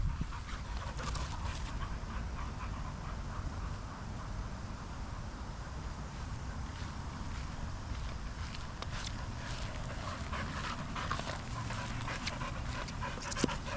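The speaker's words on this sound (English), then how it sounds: "Tired dogs." Tired dogs panting steadily and rapidly outdoors, a continuous close breathy rhythm with faint footsteps and occasional whimpers, no talking.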